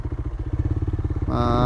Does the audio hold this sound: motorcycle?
yes